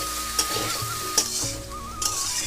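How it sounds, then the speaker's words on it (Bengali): Figs (dumur) and potatoes sautéing in a pan, a steady soft sizzle with three sharp spoon scrapes or taps spaced through the passage, close and without voices. "খুব ভালো করে পাঁচ থেকে সাত মিনিট আমি ডুমুরটাকে কষে নিয়েছি আলুর সাথে"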